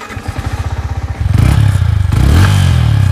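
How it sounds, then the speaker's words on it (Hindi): A Yamaha MT-15 motorcycle with its stock exhaust idles with a steady low putter, then revs up louder and rougher, holding a loud throaty roar close by. "मैं आप लोगों को एक बार स्टॉक आवाज सुनाता हूँ बाइक का"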